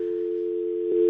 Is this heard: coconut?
no